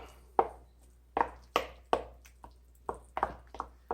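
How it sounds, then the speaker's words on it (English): Romanian eggplant salad being stirred in a bowl: a series of soft, close, separate taps and squishy knocks of a utensil, irregular and fairly quiet, with no talking. "Stir it all up."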